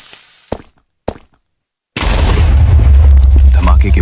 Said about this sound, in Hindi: फेलिक्स के पास पहले से मौजूद सैंड और गन पाउडर की मदद से वो TNT बनाता है और उसे फ्लिंट एंड स्टील से जला देता है।